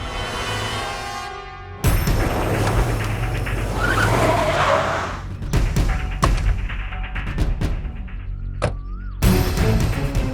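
A car pulls away hard with a sharp tire squeal and engine rev, followed by thumps and further skidding bursts, loud and close with no talking.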